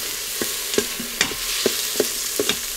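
Garlic, onion and ginger fry in a pan with a steady sizzle, punctuated by regular scraping clicks of a utensil stirring every half second or so, close and alone without talk.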